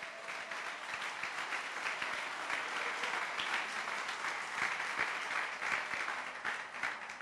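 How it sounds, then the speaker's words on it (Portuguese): Applause rises from a church congregation at Igreja de Nova Vida do Catete, a continuous crowd of hands clapping for about seven seconds, heard from a distance at modest volume. "dê uma salva de palmas ao Senhor"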